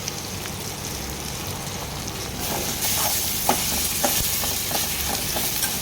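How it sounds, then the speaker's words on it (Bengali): Bottle gourd and potato pieces for a shrimp curry are stirred and fried in a hot pan, a steady sizzle punctuated by scraping strokes and clinks of the spatula, with no voices. "একটু নাড়িয়ে দিয়ে দাও সবজিগুলো দিয়ে দাও এবারে"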